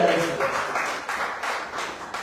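An academic symposium audience applauds to welcome a speaker, a dense wash of clapping with soft rhythmic pulses, steady and moderately loud throughout.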